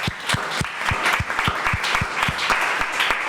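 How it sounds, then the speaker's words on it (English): An audience applauds at a panel discussion event, a steady round of clapping with distinct, fairly close individual claps standing out throughout. "So maybe a round of applause for Kim, thank you."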